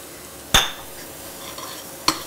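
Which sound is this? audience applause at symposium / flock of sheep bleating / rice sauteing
rice sauteing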